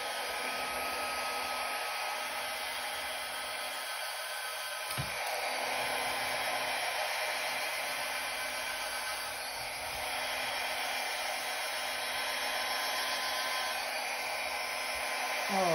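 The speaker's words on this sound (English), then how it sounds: "Now I'm going to get my blow dryer, and on the low cool setting" A hair dryer blows steadily on its low cool setting, a continuous airy whir with a faint motor hum throughout, no voices.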